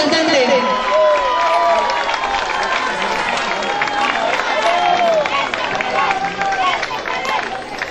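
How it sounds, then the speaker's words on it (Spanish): Steady clapping and crowd murmur fill a busy outdoor street parade and awards ceremony, with whistles and voices blending into continuous applause throughout. "Fuerte el aplauso del representante."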